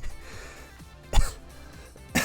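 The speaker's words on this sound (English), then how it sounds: "And I got this cough." Human cough, two short harsh bursts close up, one in the middle and one at the end, over a quiet room background.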